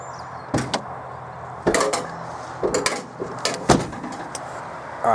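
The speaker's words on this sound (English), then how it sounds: "let's pop the boot" On a Subaru WRX with its interior partly stripped, the boot is popped open, giving several sharp clunks and latch clicks spaced irregularly over a few seconds, close by with faint background noise between them.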